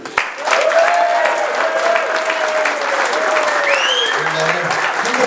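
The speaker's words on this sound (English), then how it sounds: "give them a round of applause, make them feel very welcome" Fans at a football club forum applaud as the playing squad is welcomed, steady loud crowd clapping throughout, with an announcer's voice faintly audible beneath.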